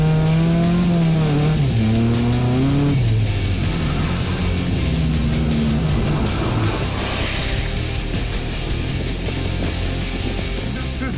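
Cars drifting on a cleared ice race track in a quarry, engines revving loudly with rising and falling pitch throughout, joined by tire and skid noise as they slide past.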